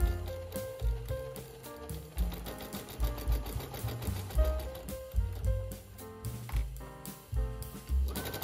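A sewing machine stitches a cork canvas tote bag, running in rhythmic mechanical bursts that start and stop repeatedly, close up and alone without any talking.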